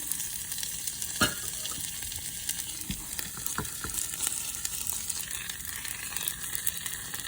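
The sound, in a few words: beef sizzling as it is added to a pan for birria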